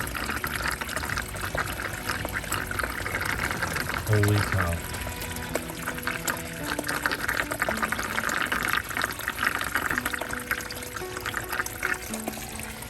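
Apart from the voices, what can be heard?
water draining in a crawlspace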